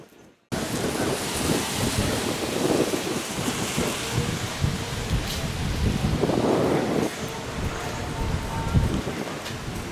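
Steady rain falling outdoors at a small-town festival street in Mayberry, North Carolina, a broad continuous hiss that sets in abruptly and stays loud and even, with faint rumbles and scattered crowd noise beneath.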